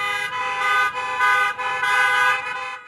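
Several car and truck horns blare together in long overlapping honks at a lobstermen's protest outside the governor's mansion, loud and close, swelling and dipping over a few seconds.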